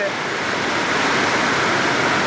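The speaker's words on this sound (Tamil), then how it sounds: "இவ்வளோ மழை பெய்யுது" Dense, steady roar of heavy rain pouring down, loud and continuous without a break.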